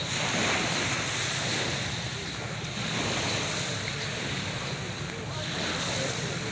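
Sea waves washing onto a beach in the morning, a steady broad roar of surf with wind buffeting the microphone, continuous and fairly loud.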